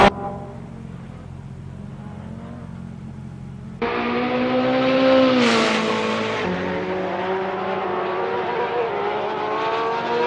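Porsche 911 GT3R race car at Spa in a GT3 race, engine note building from a low drone to a loud, rising high-revving scream that peaks sharply then holds as the car passes close, with gear changes audible.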